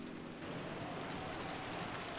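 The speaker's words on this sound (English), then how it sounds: "Outside, the rain was incredible and the wind strong." Heavy rain and strong wind in the Umineko visual novel, a steady dense wash of rainfall that stays loud and even throughout with no voices.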